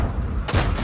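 A StuG III G tank gun fires in a video game, one sharp loud blast partway through that rolls into a short boom over a steady engine rumble.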